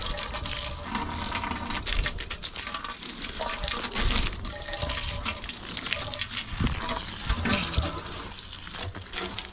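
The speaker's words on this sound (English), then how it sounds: "just rinse all the soap off" Water sprays and splashes to rinse soap off a bike part, a loud, uneven, close gushing with spattering bursts, no talking.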